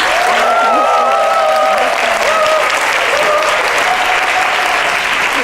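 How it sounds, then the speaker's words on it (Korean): An enthusiastic audience gives loud, sustained applause to welcome a guest lecturer at a humanities lecture, dense clapping filling the room with faint tonal sounds and crowd murmur underneath. "여러분 김성회 박사님을 큰 박수로 모시도록 하겠습니다."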